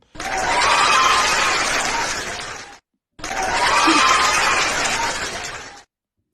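Two bursts of audience applause at a panel discussion on dating, each swelling quickly, holding for a few seconds and cutting off, separated by a short silence, with faint chuckles mixed in.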